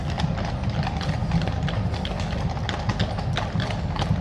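Metropolitan Police mounted branch horses in a coronation dress rehearsal procession, steady dense clip-clopping of many hooves on pavement, continuous and fairly close, with crowd ambience underneath.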